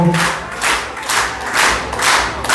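A crowd at an outdoor summer evening concert event on the Vistula Spit in Poland claps and cheers in rhythmic waves, with loud swelling bursts roughly every half second over a steady crowd roar.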